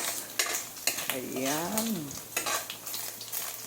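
A utensil stirs and scrapes through sizzling pork fat frying in its own rendered oil in a pan, with steady hiss and periodic clanks, and a brief spoken word partway through.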